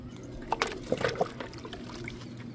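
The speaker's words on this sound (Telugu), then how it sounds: "వాటర్ ఇస్తున్నాను." Water poured onto a freshly repotted philodendron, a brief close splash and trickle into the pot soil, quiet and over within a couple of seconds.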